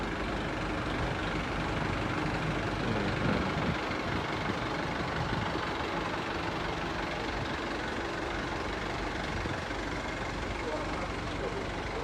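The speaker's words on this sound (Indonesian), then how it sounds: "Suara mesinnya masih halus banget ini." Mercedes-Benz 1621 engine in a Jetbus 3+ bodied tour bus idling at night, a steady broadband diesel rumble that holds for the whole stretch with slight texture changes, fairly close and continuous, no speech over it.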